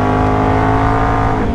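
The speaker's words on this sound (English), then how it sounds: "first ride back on the Outlander in like over a month" A tuned Can-Am Outlander ATV four-wheeler with aftermarket exhaust roars loudly and steadily up close, its engine held at high revs in a dense, buzzing drone with no voices.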